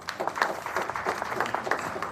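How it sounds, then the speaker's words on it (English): An audience at an event announcing the 2021 KCPE exam results gives a short round of clapping. The applause sounds moderately distant and softly blurred, with a continuous patter of many hands. "put our hands together and just give a clap to our CS"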